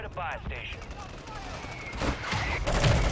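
Mortar fire in a first-person shooter game, heard as rapid bursts of gunfire and booming impacts over a few seconds, with radio-style voices talking over the chaos.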